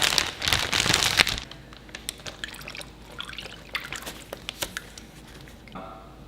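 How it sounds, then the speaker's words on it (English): Marinade poured into a plastic bag holding a pork loin: a brief wet gush of liquid, then scattered drips, squishes and crinkles of the bag, fairly close. "we're gonna pour the rest of this marinade in the bag"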